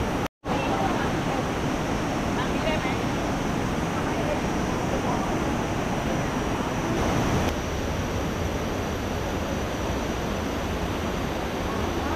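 Ocean waves on the coastline near a wooden bridge, a continuous broadband wash of surf with some wind, steady and fairly loud throughout, with no voices.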